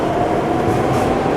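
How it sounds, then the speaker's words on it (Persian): A Madrid metro subway train rumbles loudly and continuously close by, a dense, steady roar of wheels and rail noise with no pauses. "سر و صدا هست مترو هست"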